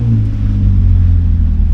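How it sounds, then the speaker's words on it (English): A steady, loud low engine rumble with a constant hum from a 2003 Nissan Pathfinder SUV after a valve cover job, the motor idling and revving up slightly, close by with no talking. "it's revving up now."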